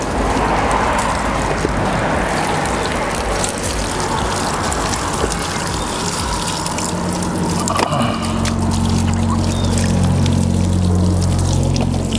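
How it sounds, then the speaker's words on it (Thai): Water runs steadily from a hose while a new Honda Nova motorbike is rinsed down, a continuous close splashing and gushing that carries on alone through the whole stretch, with a low hum joining near the end. "ก็เปิดน้ำเลี้ยงไปด้วยครับ เพื่อให้คราบผงมันไม่ติดนะฮะ"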